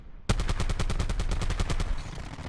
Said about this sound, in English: Sentry turret active.